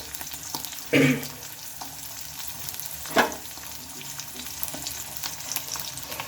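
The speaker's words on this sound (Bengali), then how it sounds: "এগুলো একটু ভেজে নিয়েছি" Leftover rice with chopped green chillies frying in a pan: a steady close sizzle with two sharp bursts of stirring scrapes and a few lighter spatula taps between them.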